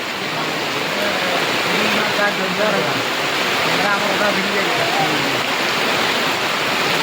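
Steady rain falls at an outdoor shooting location, a dense, even hiss that holds for the whole stretch. Voices murmur faintly beneath it.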